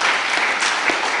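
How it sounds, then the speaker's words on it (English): Audience applause at a community high school lecture in Dominica, a brief, dense burst of many hands clapping together, steady and fairly close, with no voices over it. "Give ourselves a round of applause for that."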